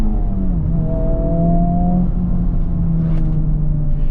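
A 2024 Honda Civic Type R pulls hard after a downshift, heard from the cabin as a loud, sustained engine drone whose pitch climbs steadily and then drops at a gear change before rising again, with no talking.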